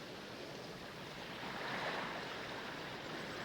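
Ocean surf rolls in a steady, broad wash of waves with some wind noise, swelling slightly midway and continuing evenly without any voices.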